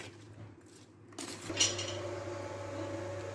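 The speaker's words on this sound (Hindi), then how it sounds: "एक चम्मच के साथ इनको आराम से मिक्स करना है आपने, इंतहाई सॉफ्ट हाथों से" A spoon gently mixes fruit chaat in a bowl, giving soft clinks and a brighter metallic tap against the bowl, close and fairly quiet, with no talking.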